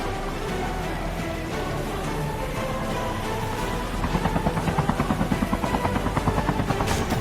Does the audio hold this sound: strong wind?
no